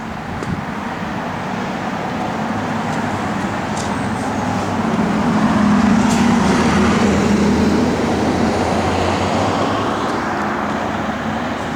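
A 1965 Pontiac GTO Convertible on the move, its engine a steady low drone under loud road and wind rush that swells slightly midway, with no talking.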